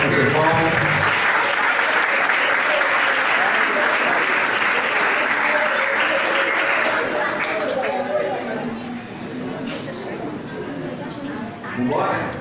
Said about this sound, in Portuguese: Vamos aplaudir o Senhor pela vida do nosso irmão.